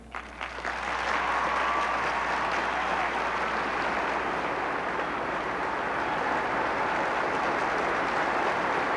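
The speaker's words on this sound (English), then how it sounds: "Enthusiastic applause greets Barbara Bush" Enthusiastic applause from a large crowd at a Boston University graduation ceremony, greeting Barbara Bush: broad, continuous clapping that swells in within the first second and holds steady, slightly distant and even.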